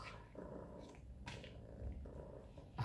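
A cat held in someone's arms purrs softly and continuously, a low faint rumble very close by with small rustles, and no talking.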